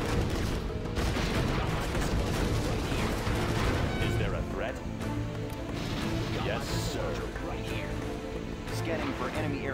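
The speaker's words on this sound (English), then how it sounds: "Got my missile launcher right here." Missile launcher and other heavy weapons fire in a video game battle, a dense continuous barrage of explosive blasts and crashes, loud throughout with voices talking underneath.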